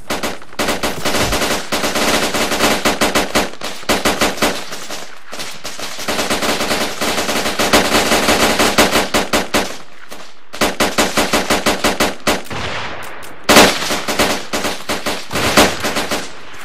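Loud, sustained automatic gunfire in the military shooter ARMA 3, long rapid bursts broken by brief pauses and a single louder shot, with no talking.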